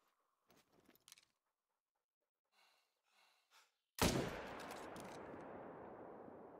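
A single loud gunshot from a Coachmate Lever .45-70 rifle in the hunting game Hunter Call of the Wild cracks out after a few quiet moments, followed by a long decaying echo rolling away.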